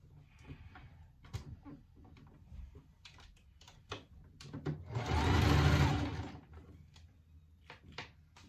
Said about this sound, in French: je vais coudre ici la première partie de la poche